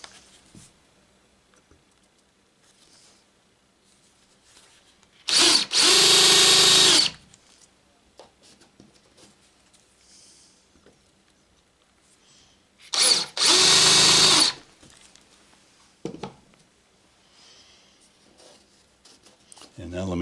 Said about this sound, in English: And now let me finish off those with my quarter inch wood drill bit.